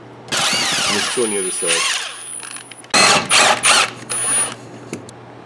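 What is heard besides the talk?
wrench removing Camaro drive shaft bolts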